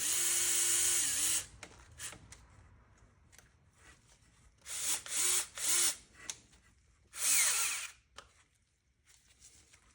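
Small cordless power driver with an 8 mm socket snugging a bolt on the coolant flange of a BMW N54 engine, several short whirring bursts with pauses between them, close and fairly loud.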